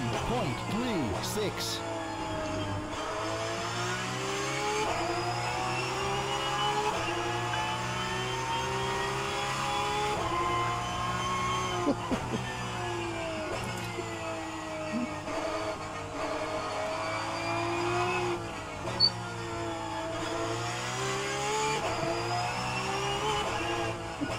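A racing engine in the rFactor 2 racing video game drones loudly and continuously, its revs climbing and dropping in pitch as the car shifts through gears.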